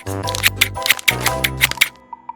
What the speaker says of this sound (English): use scissors to cut out the Cheetos packet.